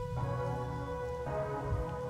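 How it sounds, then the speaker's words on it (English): Rain falls steadily in the Rain Code video game, a constant soft patter under a sustained tonal music bed, with no talking. "The rain isn't falling on me, but rather, I am ascending toward it."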